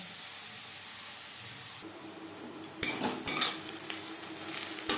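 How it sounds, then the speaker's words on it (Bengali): Onions frying in a pan while snake gourd is prepared, a steady broadband sizzle that grows louder midway, punctuated by a few sharp scraping stirs and utensil clinks near the end, with no talking. "পেঁয়াজ ভাজা হয়ে এসছে"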